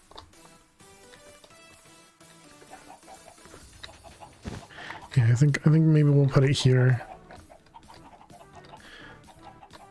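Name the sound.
chickens clucking in video game Minecraft Project Ozone 3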